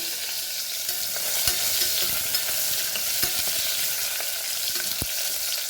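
Onion sizzles steadily in hot oil, a constant close hiss broken by a few sharp clicks and spatters, with no talking.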